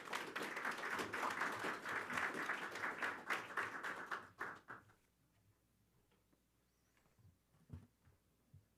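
A room full of people claps for presenters after a press briefing, a dense burst of applause for about four seconds that thins into a few scattered final claps and quiet shuffling.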